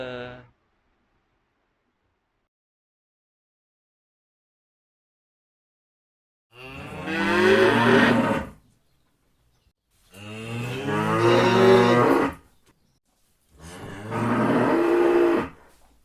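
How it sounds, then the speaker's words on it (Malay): A cow moos three times in a row, each call loud, drawn out and close, separated by short pauses, with a faint brief sound at the very start and no talk. "Okey, itu adalah suara lembu."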